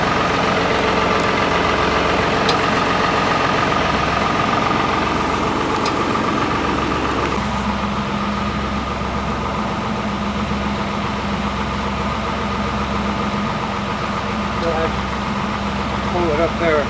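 A tractor stuck up on a log while mowing trails idles and runs steadily and close, a continuous low engine drone with a shift in tone partway through, under occasional talk.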